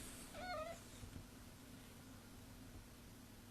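A kitten, now grown much larger, gives a single faint, brief meow early on against a steady low hum and background hiss, followed by quiet.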